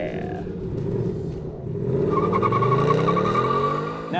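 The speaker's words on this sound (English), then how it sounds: "Now we're in the Big Daddy, the 5-liter V8 engine with 460 horsepower" A Ford Mustang GT's 5-liter, 460-horsepower V8 revs hard and close, its rumbling exhaust note building as the revs climb, then holding steady at high pitch with no voices over it.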